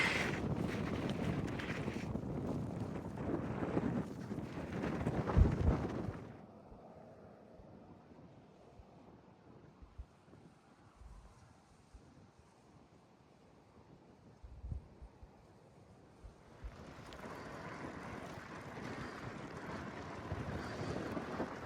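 Wind gusts buffet the microphone while riding a bike, loud roaring rushes at the start and again toward the end with a quieter, calmer stretch in between.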